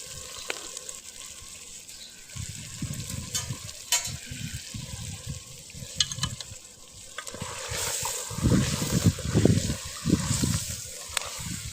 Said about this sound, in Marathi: मटण घालून मस्तपैकी भाजी फिरवून घ्यायची आहे